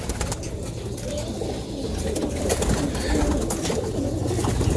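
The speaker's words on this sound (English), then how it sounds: "she's a kit pigeon" A kit roller pigeon hen coos softly and continuously, close by, against steady background noise with no talking.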